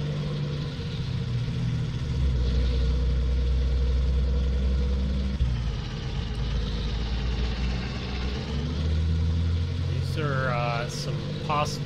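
A truck in the Farming Simulator game drives along a road on a Missouri map, its engine a steady low drone that rises and dips slightly, with a brief voice near the end.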